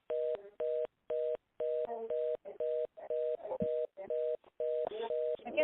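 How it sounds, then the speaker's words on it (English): Repeated steady tone bursts on a phone line during a conference call, about a dozen evenly spaced beeps in a steady rhythm, with faint voices and background noise in the gaps between them. "we got a lot of beeping"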